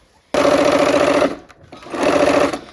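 A sewing machine stitches quilt half blocks together in two loud, steady whirring bursts. A brief pause and shuffling separate them, and the sound is close with no voices.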